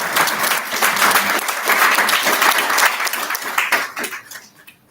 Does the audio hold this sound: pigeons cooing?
no